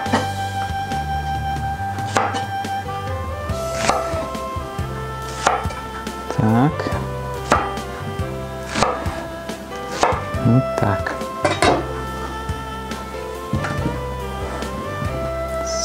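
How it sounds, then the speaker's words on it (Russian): A garlic clove is coarsely cut on a board with a knife, giving about a dozen crisp, irregularly spaced chops close up, with faint scraping and board knocks between strikes. "И один чесночок. Тоже крупно режем просто."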